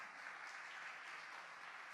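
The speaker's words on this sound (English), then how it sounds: "Let's give them a big round of applause." Audience applause at a fashion awards gala, a steady dense wash of clapping that holds evenly for about two seconds at moderate level with no voices over it.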